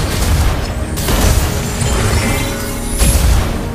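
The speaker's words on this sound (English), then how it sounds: "Your team destroyed the turret." Turret destruction in the Mobile Legends mobile game: a loud, booming blast, then a sustained crashing rumble, with a second heavy burst near the end, no talking.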